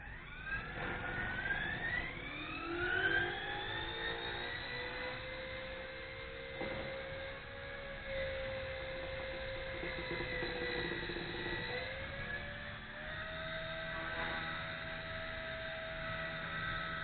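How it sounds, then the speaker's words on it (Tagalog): A WLtoys V930 brushless RC helicopter hovers close by, its motor and rotor giving a steady, fairly loud whine that rises in pitch early on, then holds and shifts slightly, with no talking. "Ang lakas ng makina niya. Oh. Ang lakas ng rotor niya."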